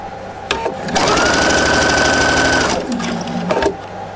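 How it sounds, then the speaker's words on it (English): Sewing machine backstitching on knit fabric: a couple of brief clicks, then a loud, close whirring stitch run of about two seconds, followed by short mechanical clicks and a last brief whirr. "I'm just going to backstitch, as I can do that pretty easily"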